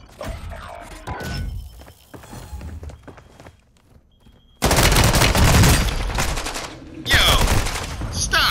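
Gunfire in Call of Duty: Modern Warfare II, starting with sparse shots and clatter, then bursting into loud sustained automatic fire during the second half, broken by a short pause.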